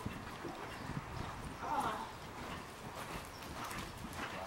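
Horse hooves clip-clopping faintly at an even rhythm during an indoor dressage lesson, with a woman instructing in French over the footfalls.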